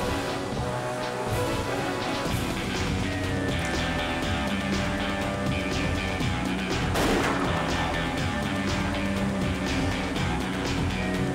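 A single gunshot rings out during the James Bond gun barrel intro of the 007 Everything or Nothing video game, a sharp crack set against loud, continuous orchestral music.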